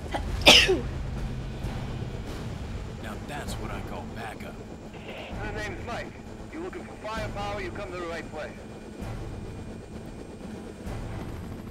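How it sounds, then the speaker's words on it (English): A sharp, loud sneeze bursts out near the start, followed by quieter talking and background rumble. "I gotta sneeze."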